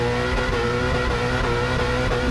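A race car at the Goodwood hill climb accelerates hard under full throttle, its engine giving a loud, continuous, dense roar heard up close without any break.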